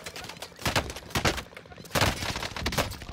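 Irregular bursts of gunfire in the Call of Duty Warzone video game, with shots fired through a wall coming in several loud clusters over a steady background of game noise.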